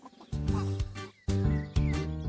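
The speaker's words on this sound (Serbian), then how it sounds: "Kokoške su počele da se pojavljuju na čudnim mestima." Cartoon chickens from the 2002 animated series Tractor Tom cluck in three or four short, voiced bursts, close and clear with brief gaps between them.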